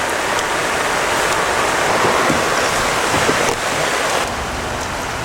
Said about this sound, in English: This rain's never gonna stop.